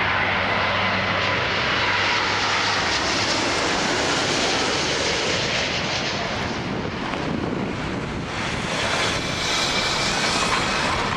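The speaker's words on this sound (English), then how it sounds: "Here's Transaero Boeing 777-300." A Transaero Boeing 777-300 lands on runway 23 at Toronto Pearson, its engines making a loud, steady, broadband roar with wind buffeting that holds for the whole stretch without pause.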